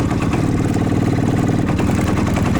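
An IZh Planeta 5 motorcycle engine idles steadily up close, a loud, continuous rapid low putter with an even rhythm and no voices over it.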